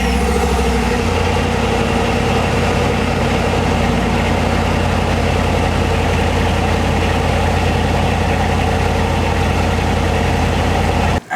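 A pickup truck on its stock exhaust starts up and settles into a steady, loud, deep idle, a constant low rumble that runs unbroken until a brief cutoff at the very end.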